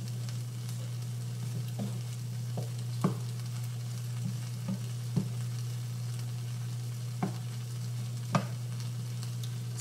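Salmon and cauliflower frying in a pan over low heat, a steady close sizzle with a low constant hum beneath and occasional light clicks and taps of utensils against the pan.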